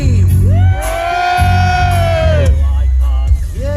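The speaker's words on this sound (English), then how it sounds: "Alton Towers, let me hear you scream!" A theme park crowd at the Alton Towers fireworks show screams and whoops loudly, with a long sustained yell rising over the mass of voices, close and continuous.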